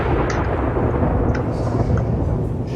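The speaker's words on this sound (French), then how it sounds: "J'ai un bruit de tonnerre." Thunder in the video game Antichamber: a dense, steady low rumble that fills the whole stretch at a constant, fairly loud level, with a few faint higher flickers above it.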